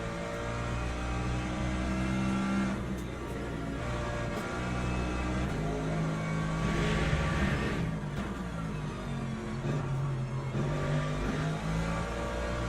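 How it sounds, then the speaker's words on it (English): Hypercar engines in the Le Mans Ultimate racing game drone and rise in pitch as several cars pass, a continuous loud layered engine roar with shifting revs. "here come the hypercars"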